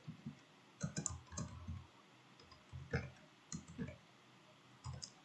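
Fingers type on a computer keyboard, quick clusters of light clicking keystrokes with short pauses between bursts, close and quiet with no talking.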